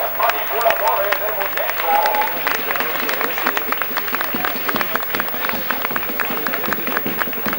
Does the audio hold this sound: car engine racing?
no